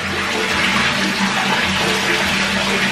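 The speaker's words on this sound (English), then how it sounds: "Pour some on my head. Hot water bucket challenge." Hot spring water is poured from a bucket over a person's head while they bathe in a tub, a steady, loud gushing splash that lasts throughout without speech.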